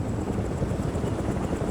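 Helicopters from the PC video game World in Conflict, a steady, loud low rotor rumble and drone filling the whole stretch, with no talk over it.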